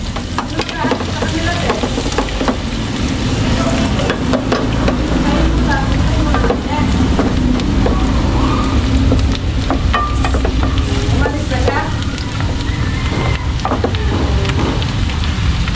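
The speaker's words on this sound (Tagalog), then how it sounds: "Okay, so ilalagay ko na po yung bawang. Maraming bawang." Plenty of garlic frying in spicy butter for buttered garlic mussels, with a steady loud sizzle and crackle running throughout and occasional stirring clinks on top.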